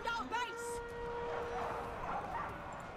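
Barbarian war dogs in the Total War Arena game barking and yipping briefly at the start, then fading under someone talking over a background battle din.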